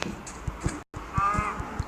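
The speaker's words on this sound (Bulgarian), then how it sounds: "Крава." A cow moos in a survival video game, a short lowing call rising mid-clip amid light game sounds and soft thumps, with no talk over it.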